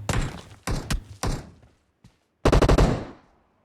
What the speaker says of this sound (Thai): มีคนยิงปืน